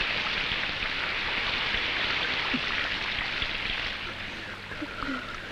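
Heavy rain pours on a house with a leaking roof, a dense, steady hiss of drops on surfaces that runs throughout and eases slightly toward the end.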